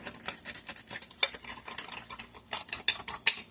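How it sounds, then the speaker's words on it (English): A spoon stirs and scrapes through chocolate frozen custard mixture of eggs and cocoa in a bowl, with close, rhythmic clinks and scrapes of utensil against the dish, no talking. "So we want to mix that up, get that mixed all up good."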